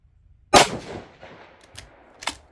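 A single sharp rifle shot from a 6mm ARC, fired at a 200-yard range, cracks loudly and decays into a short echo, with a few fainter knocks afterward.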